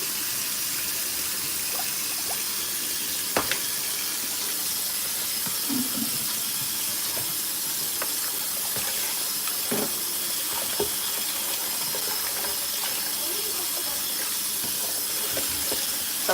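Tap water runs in a steady hiss over raw lamb chops being rinsed in a kitchen, with faint clicks and splashes from handling the meat.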